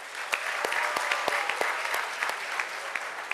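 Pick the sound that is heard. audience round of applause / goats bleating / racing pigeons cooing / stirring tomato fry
audience round of applause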